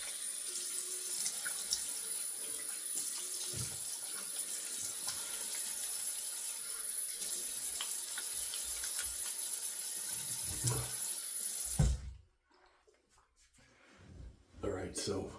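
A bathroom sink tap runs steadily to rinse a razor, a bright continuous splash of water that stops abruptly near the end, followed by a few faint handling sounds.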